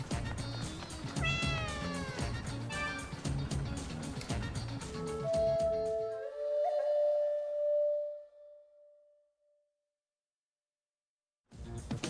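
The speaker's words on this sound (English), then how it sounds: "Black cat ran off toward Tamonten Shrine." A black cat meows in the video game Raidou Remastered, with a few distinct mid-pitched meows over game music and effects before a long tail of fading tones and near silence.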